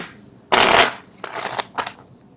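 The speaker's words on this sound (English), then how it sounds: "people like to see the card shuffle live" Tarot cards are shuffled in a few quick riffling bursts, close and crisp, one long rush followed by two shorter ones, with no talking.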